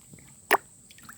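A small fish, about hand length, is released back into the water from a fishing catch, producing a single short, close splash in the middle of an otherwise quiet moment.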